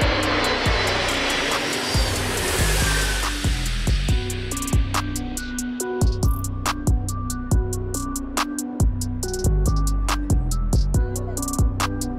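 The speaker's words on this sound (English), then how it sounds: "The AN-225 literally cleans up the sky by cutting through the fog." An Antonov AN-225 cargo plane flying through fog gives a sustained engine roar, loud and steady, with sharp rhythmic clicking or ticking noise running through it.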